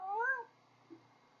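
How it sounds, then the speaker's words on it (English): A house cat gives one clear, rising meow close by, followed by a faint soft sound and near-silence. "the cat's gonna join us for our talk"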